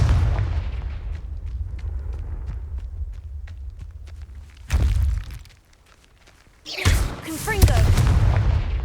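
A Confringo blasting spell explodes in Hogwarts Legacy with a sudden heavy burst near five seconds, followed by a brief lull. A second louder explosive blast comes near seven seconds amid footsteps and scattered game impacts.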